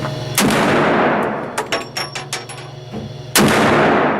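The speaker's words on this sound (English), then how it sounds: "I love shooting the 50 cal at the Canadian GunHub" Two heavy .50 caliber handgun shots boom out at a Canadian gun range, one near the start and one near the end, with echoing tails and small clatters between them.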